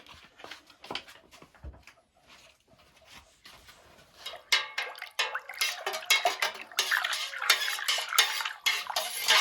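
A utensil clinks and scrapes around inside a vessel, stirring vinegar into water, slow taps at first, then rapid, brisk stirring that grows louder and busier.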